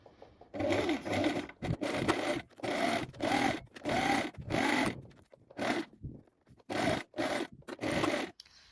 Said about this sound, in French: Et donc vous allez coudre à 8 mm du bord.